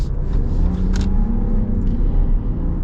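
A 2025 Ram 1500 Rebel pickup with the Hurricane engine accelerating hard, its tires briefly breaking loose: a loud, close, sustained engine roar with rising pitch and a few sharp transient bursts, no talk.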